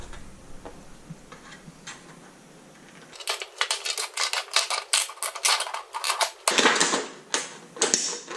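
Rapid metallic snipping and crunching as copper sheet is cut, quiet at first then louder dense bursts of cutting, close up with no voices.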